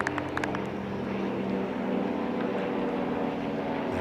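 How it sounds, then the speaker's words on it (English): Propeller airplane droning overhead above a T10 cricket ground in European Cricket, a steady broad engine rumble that holds throughout, fairly loud and continuous with no talk. "there's a plane going overhead"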